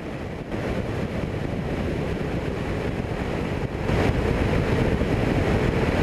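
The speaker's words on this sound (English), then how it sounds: "Really windy." Strong wind roars steadily in a Cessna 172 on approach to a busy airport on a windy day, a dense unbroken rush that swells louder partway through.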